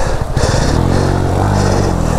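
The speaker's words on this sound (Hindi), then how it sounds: "बाइक देख स्टार्ट होगी कि नहीं" A motorcycle on a muddy trail at night roars loud and close as it fires up, its engine note holding steady and rough with a faint clatter, and no talking over it.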